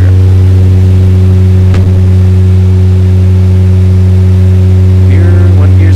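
Twin engines of an HS 748 aircraft at max power during a go-around, heard from inside the cockpit as a loud, steady droning hum, with brief voices over it.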